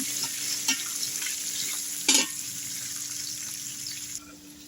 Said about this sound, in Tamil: வெங்காயம், பச்சை மிளகா, வெங்காயம் நல்லா வணங்கிட்டு